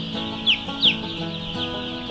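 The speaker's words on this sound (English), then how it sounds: "Look at all the chicks." A large flock of chicks on a pasture farm chirps and peeps continuously in a dense overlapping chorus. A few louder calls stand out, all fairly close, with no talking.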